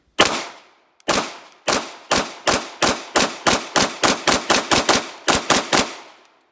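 Pistol shots from a Sig Sauer P320 in 9mm firing S&B 115 grain full metal jacket rounds at about 10 yards on a range: around nineteen sharp, loud reports, spaced at first and then in quick steady strings, with no talking.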